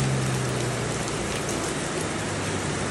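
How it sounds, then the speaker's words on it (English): Heavy rain pours down steadily in a dense, loud hiss of drops on surfaces, with a faint low hum underneath and no talk. "it's pissing rain"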